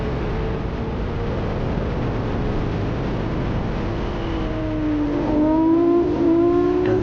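Heard from the cockpit of a Matra MS650 race car during the Tour Auto 2025, the engine gives a constant loud drone, and rising tonal whines build toward the end as it accelerates.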